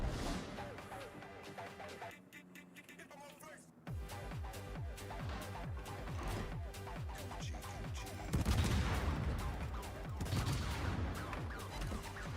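Warship guns boom repeatedly during a naval battle video game, heavy blasts and crashes landing in quick succession over a steady musical background.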